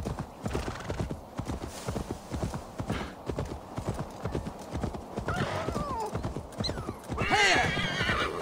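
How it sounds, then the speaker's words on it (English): A horse gallops in Assassin's Creed Valhalla, its hooves clip-clopping in a steady quick rhythm throughout, with loud neighs and whinnies breaking out toward the end. "Nearly there. Come on, horse."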